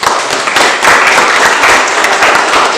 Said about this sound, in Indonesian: Oke, ya kita memberikan aplaus